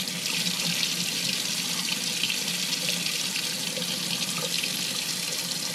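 Hot water pouring from an outdoor sink tap, a continuous even rush splashing into the basin, close and steady throughout with no voices.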